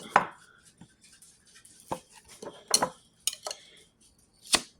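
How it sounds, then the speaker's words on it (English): A butter knife works under the metal lid of a glass jar, making scattered close clicks and scrapes with a few sharper metallic taps spaced irregularly over quiet gaps. "So I'm going to pry up the lid a little bit."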